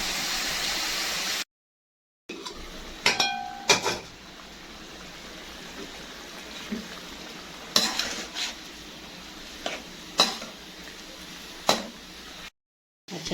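Chicken browning in a pan for jalfrezi, a steady hiss of frying under repeated scraping and clinking as a utensil stirs against the metal, with a few sharper clatters spaced through.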